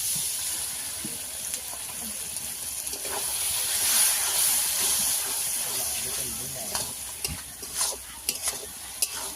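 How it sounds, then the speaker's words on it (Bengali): Water hits a hot pan of country chicken curry and sets off a steady, close hiss and sizzle that lasts throughout, with a few light scrapes of stirring near the end. "জল দিয়ে দেবো।"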